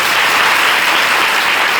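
Applause from an audience at a worship gathering, a steady dense wash of clapping filling the whole moment, loud and close, with no voices over it.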